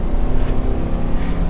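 Old-school V8 of a 2023 Chevrolet Silverado 1500 ZR2 Bison, a steady loud low engine drone with a slight rise, heard close and alone without talk.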